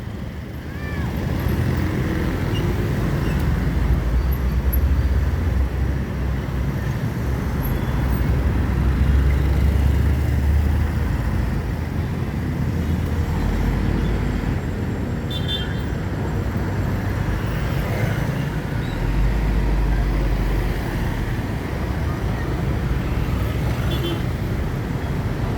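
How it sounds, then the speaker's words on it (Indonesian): Steady roadway rumble of a traffic jam at the Palembang city entrance gate, with buses and many trucks idling and creeping along nearby, a continuous low engine drone lasting throughout with a few faint higher tones. "Masalah jalan lagi macet di gerbang masuk kota Palembang"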